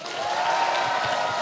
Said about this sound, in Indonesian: teman-teman tepuk tangan yang paling meriah